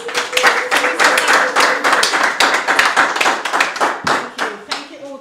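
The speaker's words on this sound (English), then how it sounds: "Give another round of applause." A room of people claps together in steady, lively applause that carries on for several seconds and then trails off.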